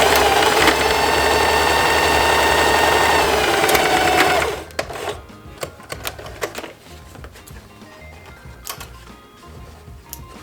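A sewing machine runs straight stitches across a belt bag with a fast, steady whirring for about four seconds, then stops, leaving soft clicks and fabric handling.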